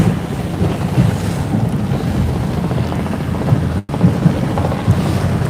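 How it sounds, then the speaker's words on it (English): Racing sailboats in an in-port race off Cape Town push through stronger wind, with a steady loud rush of wind and water across the microphone that runs without a break and has no voices. "as the boats get into the stronger wind here towards the start line, they can start to accelerate and extend that advantage"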